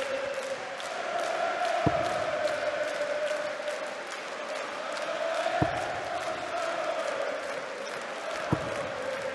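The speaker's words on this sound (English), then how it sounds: "the crowd show their appreciation for that" Darts crowd at a PDC European Tour match in Riesa reacting to a 140 score: a steady wash of applause and cheering that runs throughout, with a few sharp thuds standing out.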